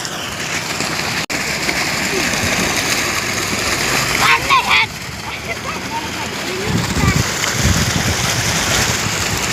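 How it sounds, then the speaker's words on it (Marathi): Running water splashes steadily as hands and feet are washed outdoors, a loud, constant rush with gusts of wind noise and people talking nearby. "इथं पाणी चालू आहे म्हणून भरपूर जरा हात पाय तोंड धुवू म्हणलं मस्तपैकी"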